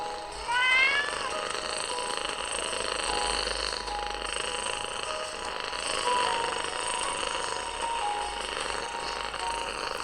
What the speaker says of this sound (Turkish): Bakın böyle araba sesi yerine kedi sesi var.